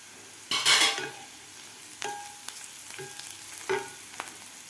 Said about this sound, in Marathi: आणखीन आपल्याला एक ते दीड मिनिट हा कांदा भाजून घ्यायचा आहे